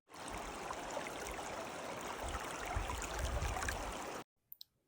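A river flows under a bridge in a steady, close rush of water that holds for about four seconds, then cuts off abruptly, leaving a couple of faint taps.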